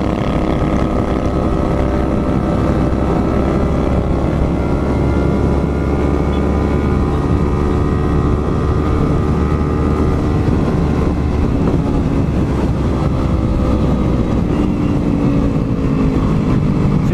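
Motorcycle with a couple aboard touring on a holiday trip, its engine droning steadily and loudly with heavy wind rush throughout, no talk.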